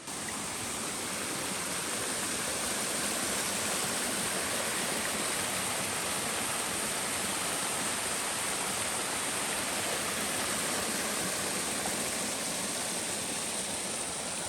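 A river rushes steadily beside a campsite on the Appalachian Trail, a dense, even roar of flowing water that stays loud and unbroken throughout.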